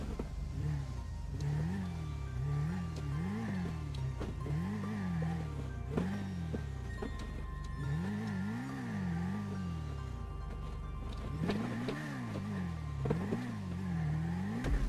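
A motorbike engine in the game GTA Online revs repeatedly in rising and falling waves, with several cycles in a row, a pause, then more revving. It is steady and mid-level with no talking.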